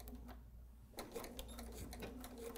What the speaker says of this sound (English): I'm going to stitch just a few stitches.